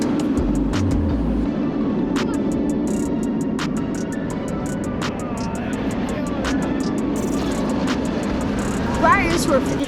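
Kumba, a steel roller coaster at Busch Gardens Tampa reaching 60 miles an hour, roars with a dense, continuous rumble of wheels and rushing wind, punctuated by sharp clacks of the track.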